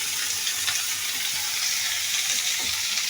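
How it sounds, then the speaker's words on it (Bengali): Food sizzling and frying in a pan while being stirred, a loud, continuous hiss with occasional soft scraping of a spoon, close and steady throughout. "একটু ভালো করে লাড়ি দিই"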